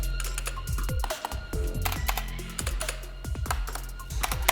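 Rapid typing on a Mad Dog mechanical gaming keyboard with sharp, clacky keystrokes in irregular bursts, close and fairly loud, with a few heavier thumps among the clicks.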